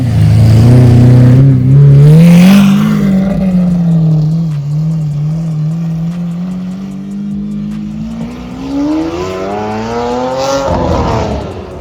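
A loud Lamborghini Aventador SV engine revs hard, the pitch climbing and falling through several long sweeps, close and continuous with no talking.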